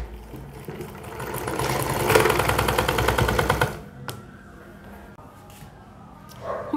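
Sewing machine stitching a salwar, a dense run of rapid needle strikes for about three and a half seconds, then stopping, with faint handling noise afterward and no talking.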